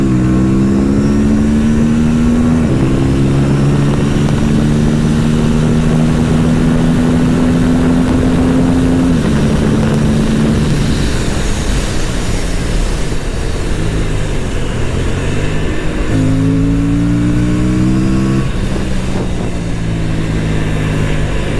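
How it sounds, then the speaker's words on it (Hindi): Motorcycle accelerating hard on a straight road, the engine note climbing in steady pitch sweeps through gear changes, loud and close against constant wind rush. "आई ट्राई कि मैं पुल कर सकूँ बाइक को थोड़ा दूर तक"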